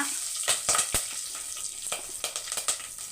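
Vadagam fries in hot oil in a steady, bright sizzle, with several sharp crackles and pops of spitting oil standing out close up.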